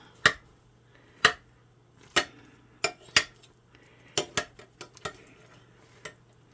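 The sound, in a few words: spoon scooping apple butter cake from slow cooker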